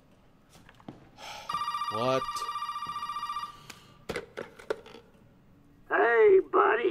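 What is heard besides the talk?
telephone ringing in the video game Resident Evil 7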